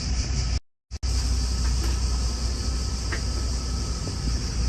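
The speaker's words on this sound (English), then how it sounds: "this is the Athens Happy Train" Athens Happy Train, a small road tourist train, rolling along with a steady low rumble and broadband road noise, briefly cutting out near the start, with faint higher tones above.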